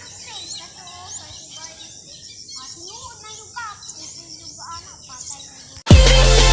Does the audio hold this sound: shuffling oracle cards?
no